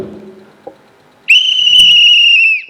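A handheld whistle is blown really loud in one sustained, piercing blast of over a second, near and dominant, after a stretch of quiet room sound with a faint bump.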